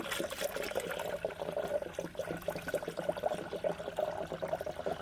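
Coolant pouring steadily into a Toyota Tacoma radiator with a gurgling, trickling flow, close by and continuous for several seconds.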